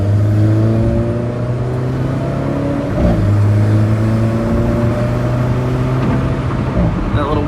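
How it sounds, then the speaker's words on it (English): Turbocharged four-cylinder Alfa Romeo 4C under way with windows down, its engine droning in steady harmonic tones that dip and rise again as it revs, a faint turbo whoosh over road noise. "That little whooshing noise you hear is the turbocharger on the 4-cylinder engine."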